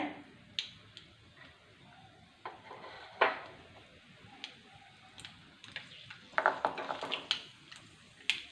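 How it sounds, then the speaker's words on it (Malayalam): Mustard seeds pop in hot oil as scattered sharp little cracks, irregular and fairly faint, with a couple of louder bursts, alone with no talk. "കടുക് പൊട്ടിയേ"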